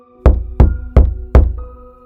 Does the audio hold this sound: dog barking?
no